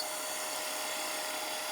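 A wood lathe spinning at 2100 RPM while a bowl gouge cuts the wood, giving a steady, even hissing shave that stays constant for the short stretch.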